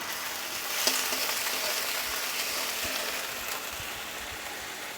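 Chopped onion and garlic cloves fry in a pan, giving a continuous, fairly loud sizzle with occasional light clicks of stirring and no talking.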